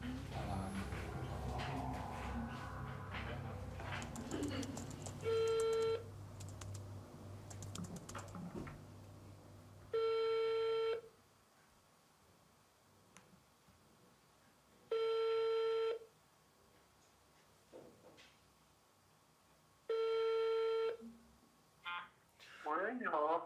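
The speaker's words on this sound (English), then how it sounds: "A few days later, we try to reach him by phone." A ringback tone on a telephone call to China sounds as four long, evenly spaced tones about five seconds apart, clear and alone after some earlier keyboard typing and talk.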